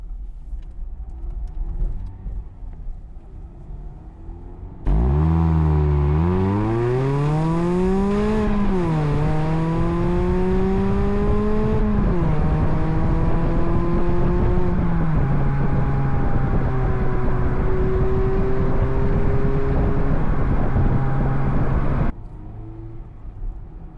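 A Mazda MX-5 ND 1.5 idles, then pulls away in first gear, its engine note rising steadily with revs, shifting and settling into a loud, steady drone up close before the sound cuts off.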